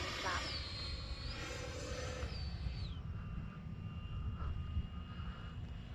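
An X-Fly Alpha RC airplane on its landing approach with gear and flaps down, a steady whining motor drone that shifts pitch as it passes, heard at moderate distance over outdoor background noise.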